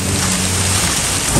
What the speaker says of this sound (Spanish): ¡Eso que se ve allá es granizo!